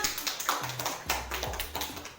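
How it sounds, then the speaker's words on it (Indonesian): A classroom of students clapping hands together in applause, a dense run of quick taps spread across about two seconds, moderately near, with no talk over it. "Tepuk tangan untuk kita semua."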